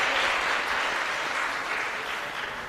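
Audience applause fills the hall at a youth tourism expo and career fair, a steady, even wash of many hands clapping with no voices over it, easing slightly toward the end.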